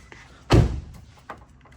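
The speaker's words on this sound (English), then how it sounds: "Shut this door." A car door is slammed shut once with a single heavy thud, then a faint softer knock follows in an otherwise quiet space.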